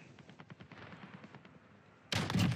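A single loud, sharp sniper rifle shot in Call of Duty Warzone rings out near the end, after a stretch of quieter rapid distant gunfire and game noise.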